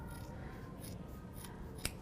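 Sharp fabric scissors slicing through cloth folded four times into strips, giving a few crisp snipping strokes that sound close and fairly quiet over a soft background hiss.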